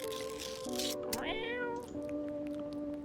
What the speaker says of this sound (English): I can feed the cat food.